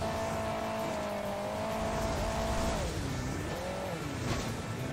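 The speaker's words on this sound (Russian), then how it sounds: "Что так газует-то чересчур" A car engine in the Hill Climb Racing 2 video game revs hard and steadily, the pitch rising and dipping with throttle over a continuous game background.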